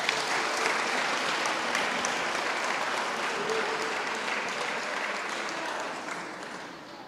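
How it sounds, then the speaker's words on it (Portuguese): Congregation applauding in a church service, a dense, steady wash of clapping that holds throughout and tapers slightly toward the end, with a few voices faintly under it. "Pode aplaudir ao Senhor."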